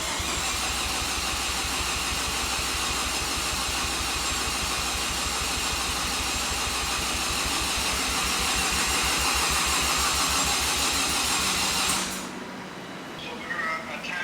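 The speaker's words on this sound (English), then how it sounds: "you crank over, the engine's supposed to spin about 250 RPMs or so" A Mazda RX-7 FD with a rebuilt rotary engine cranking over at full throttle, the starter turning it in a steady, fast rhythmic churn for about twelve seconds before it stops, loud and close.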